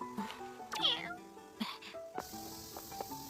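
Cat in a Hindi-dubbed animated series giving a clear, high meow early on, followed by quieter chirps amid soft background music and effects, a voice speaking over it.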